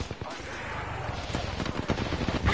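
Rapid gunfire bursts in the video game Apex Legends, dense and continuous over a busy mix of game sounds, with short cracking shots stacking up near and loud throughout.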